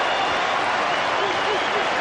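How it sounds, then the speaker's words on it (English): Cricket crowd at Eden Park during the 1992 World Cup semi-final between Pakistan and New Zealand, a dense, steady roar of many voices filling the stands, continuous and fairly loud with no single voice standing out. "Listen to the crowd."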